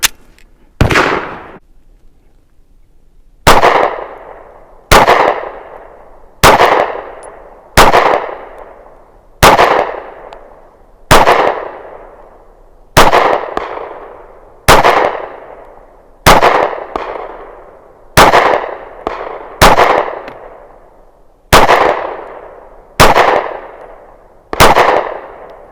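Fourteen sharp, loud 9mm pistol shots from an FN 509CC Edge and a Sig P365 XMacro, fired outdoors one at a time with a brief ringing decay after each and irregular pauses of one to two seconds between them.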